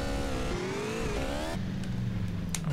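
A motorcycle engine in GTA San Andreas revs loudly and close, its pitch climbing steadily, then dropping abruptly into a lower, smoother drone as the bike shifts and rides on.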